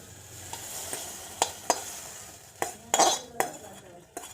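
Leftover vegetable curry heated and stirred in a kadhai, with a soft background sizzle punctuated by irregular sharp metallic clinks and scrapes of the spoon against the pan, close by and with no voices.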